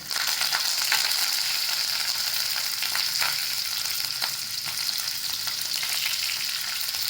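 Ginger, garlic and coconut paste sizzling in hot oil with cumin, a steady close hiss and crackle for the whole stretch with faint stirring scrapes and no voices.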